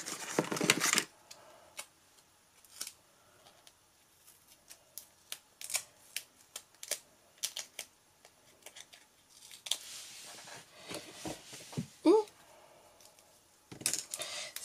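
Scissors snip through paper and double-sided tape while making a small handmade craft notebook, giving a string of short, sharp cuts near the microphone, with a louder rustle at the start and near the end.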